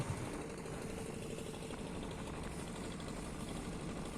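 A motor boat engine on the Titas river in Bangladesh runs with a continuous, low, rumbling drone, steady and unbroken, with no voices over it.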